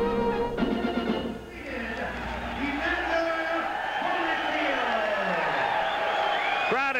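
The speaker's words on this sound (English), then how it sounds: "Crowd is responding to the official announcement." A boxing arena crowd at an Evander Holyfield fight murmurs and cheers steadily in the background as someone speaks clearly over the noise after the official result is announced.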